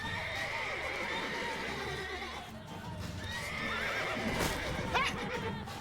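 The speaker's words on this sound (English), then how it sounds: "I can't believe I got hit by a fucking horse." A horse in the Witcher 3 video game neighs and whinnies amid clip-clopping hooves and game ambience, a loud whinny rising near the end over continuous background sound.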